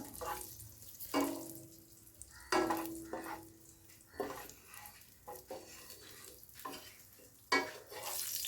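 Pistachios and other nuts toasting in a pan for kunafa, soft sizzling with a spoon scraping and stirring in repeated strokes, close and fairly quiet.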